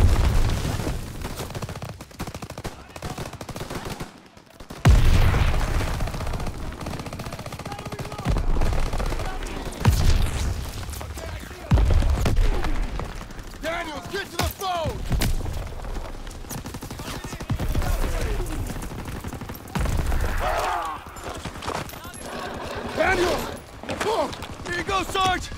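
Sustained machine-gun and rifle fire from a Call of Duty: WWII battle, with rapid bursts, booms and thuds piling up loudly throughout, interrupted by brief lulls and shouted voices amid the fighting.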